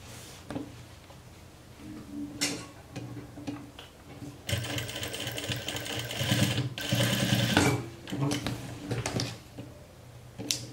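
Sewing machine stitching fabric on the reverse side of a beginner's jumpsuit, in bursts of fast mechanical whirring, with short runs at first and a longer sustained run in the middle, close and fairly loud.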